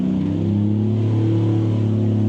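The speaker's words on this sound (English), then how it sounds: "There the airboats go." Loud, steady engine drone of airboats passing by in Louisiana, with a deep, sustained propeller-like hum, close by and unbroken throughout.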